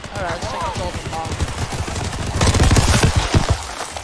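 Cartoonish cannon blasts and rapid gunfire from Wild West units in the battle game TABS build into a dense, loud barrage, with a voice speaking over the opening moments.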